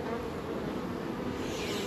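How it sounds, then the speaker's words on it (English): Honey bees buzzing around a hive in October while being fed sugar syrup, a steady dense hum of many insects close by, continuous and even in level, with no talking. "But look, bees are working."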